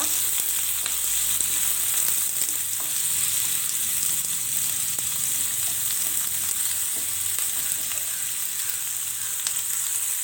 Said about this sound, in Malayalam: ഇതിലേക്ക് നമുക്ക് അരിഞ്ഞു വെച്ചിരിക്കുന്ന സവാള ചേർത്ത് കൊടുക്കാം.